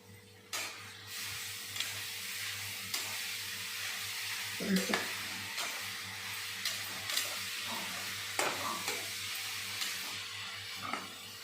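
Grated carrot sautés in ghee for carrot halwa, a steady soft sizzle with occasional spoon knocks and scrapes against the pan, fairly quiet throughout.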